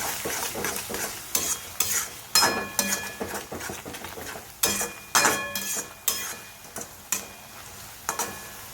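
Spinach being stirred in a hot pan with salt, cumin, asafoetida and garam masala: repeated scraping strokes and clinks of a spoon against the pan over a steady soft sizzle, close and moderately loud.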